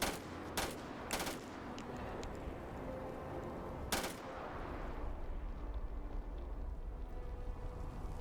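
Weapon fire in the video game Starfield: a few sharp, thin gunshot bursts spaced seconds apart over a dense, rumbling battle-noise backdrop, with no voices.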